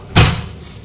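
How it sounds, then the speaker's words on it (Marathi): A single sharp door bang in a home kitchen, loud and close, with the hit dying into a short hollow ring over quiet room tone. "आला दरवाजा कसा वाजायला."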